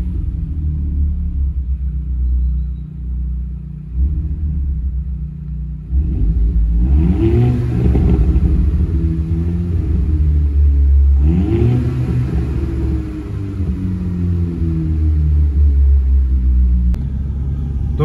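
A 272 hp Audi TTS engine idles with a low rumble, then revs hard twice with rising, roaring sweeps heard from inside the car, settling back to a steady idle between and after.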